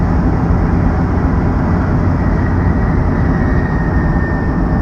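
A turbocharged Cummins 12-valve diesel engine under light throttle gives a loud, steady, unbroken roar and drone with a faint whine on top, heard close and alone.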